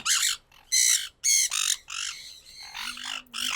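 A paired sugar glider calling at close range: about six harsh, squawking bursts in uneven succession, separated by brief silences.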